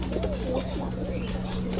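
A large pigeon and others coo nearby in a loft, a brief low rolling call over a steady hum and background clatter, with no talk.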